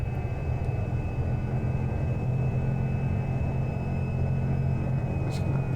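A Cessna 208B Grand Caravan turboprop beginning to taxi in the X-Plane 11 flight simulator: a steady, loud engine drone with a deep rumble that holds evenly throughout.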